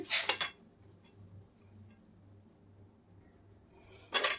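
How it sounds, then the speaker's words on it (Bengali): A spoon scrapes and clinks against a bowl while mixing potato filling for aloo moglai paratha, in two short bursts at the start and end separated by a quiet pause with a faint low hum. "আর আমি কিন্তু এগুলো চামচ দিয়ে মেশাচ্ছি"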